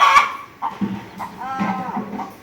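A newly hatched chicken chick from a clutch of brooded eggs gives a few short, high, separate peeps and chirps nearby, with soft background noise between calls.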